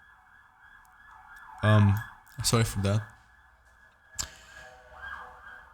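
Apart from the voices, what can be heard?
ambulance siren passing outside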